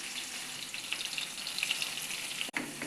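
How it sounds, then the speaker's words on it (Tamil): Onion and tomato frying in a pan, a steady close sizzle with faint crackles and pops throughout, alone with no voices. "உள்ளி, தக்காளி எல்லாமே சீக்கிரமாக வறுபடுங்க."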